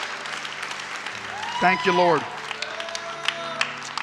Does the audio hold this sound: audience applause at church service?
yes